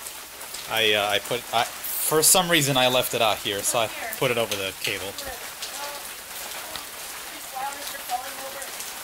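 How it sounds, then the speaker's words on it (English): Heavy rain from an overnight storm pours down in a steady, dense hiss that runs throughout, with people talking over it in the foreground. "It's been raining all night. It's actually been storming so bad."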